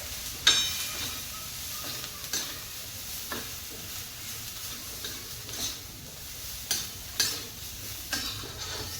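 Moong mixture with spices is stirred in a pan over low gas, a quiet steady sizzle under light intermittent scrapes and taps of the spoon against the pan, with no one speaking.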